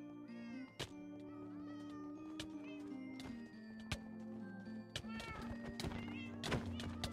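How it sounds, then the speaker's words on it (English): A cat meowing in the Minecraft Blockwars video game, with repeated short meows over a layered bed of game music and sharp clicks and thuds, while a voice talks at times. "I'm just gonna be here with this cat."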